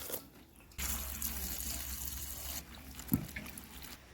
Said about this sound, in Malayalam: ആദ്യം കുമ്പളങ്ങ ഒന്ന് നല്ലപോലെ കഴുകിയെടുക്കാം.